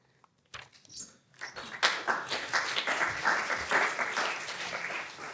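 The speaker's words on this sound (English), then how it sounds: "I've got a round of applause" Audience applause at an education summit session, starting sparse with a few claps and swelling into steady, full clapping from a room of people that holds through to the end.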